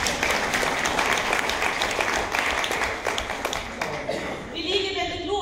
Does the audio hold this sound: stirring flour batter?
no